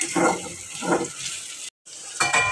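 Turmeric, chili powder, coriander powder and salt fry in a pan, stirred in a few scraping bursts with a soft sizzle underneath, broken by a short silent gap before the stirring resumes.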